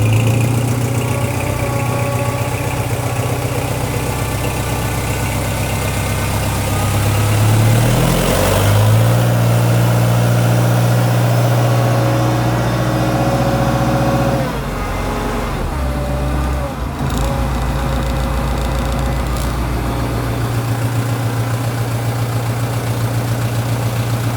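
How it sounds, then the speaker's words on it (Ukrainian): A diesel tractor engine running on a frosty morning, idling with a deep steady rumble that rises in a couple of revs before settling back, close and loud throughout. "Включив я свічку, чекаємо свічку і дивимося, як воно газане."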